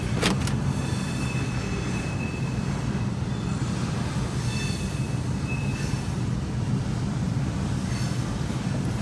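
A CSX freight train with six engines heading into a rail yard rumbles past in a continuous, heavy roar, with faint metallic wheel squeal and clanks over the steady low din.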